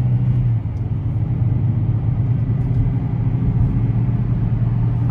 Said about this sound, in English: I hear a wheel bearing.